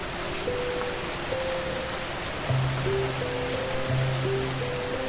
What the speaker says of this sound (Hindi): तभी वे दोनों देखते हैं कि बारिश शुरू हो गई है।